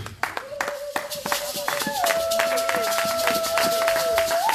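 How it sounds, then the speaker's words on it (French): A church congregation claps in quick rhythmic bursts during a worship service, and voices sing and call out over the hands. "On acclame très fort pour notre Dieu."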